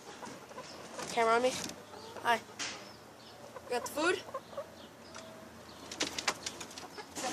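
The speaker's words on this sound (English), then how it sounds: "Hey, chickens." Backyard chickens cluck and warble at feeding time, with soft repeated clucks and a few louder calls nearby, mixed with people talking.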